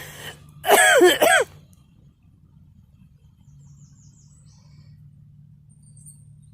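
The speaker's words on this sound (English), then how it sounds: "I still got the cough." A single loud throat-clearing cough, a couple of rough bursts close by, followed by quiet background hum.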